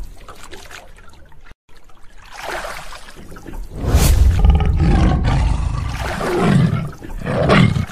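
A cartoon tiger roars in a Sundarbans jungle scene, loud deep growling swelling over a few seconds with water trickling around a boat, after a brief quiet gap.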